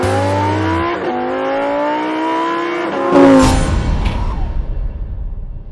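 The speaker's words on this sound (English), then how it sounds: "today we're at our test track for a drag race." A Corvette C8, Porsche 992 Carrera S and 2021 Toyota Supra launch at a test track drag race, engines climbing through rising revs with sharp gear-shift breaks before a loud roar sweeps past and fades.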